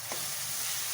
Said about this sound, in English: and now I'll drop in this bowl of onions. Fry it very well.